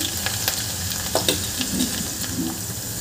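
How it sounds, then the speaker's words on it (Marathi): Onion and curry leaves frying in a pan, a steady close sizzle with a few sharp pops and light stirring scrapes throughout, no voices. "आणि कढीपत्ताही घालून घ्यायचा आहे. आपल्याला कांदा छान होऊ द्यायचा आहे 2-3 मिनटं"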